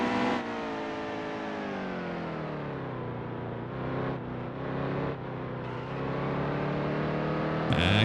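Race car engine from NASCAR Heat 2 drones steadily, loud and close, its pitch sliding down through a gear change as it slows for a corner, then climbing again with a brief revving burst at the end.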